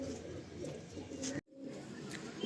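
Low, continuous pigeon cooing fills the clip, briefly cutting out to silence midway before resuming.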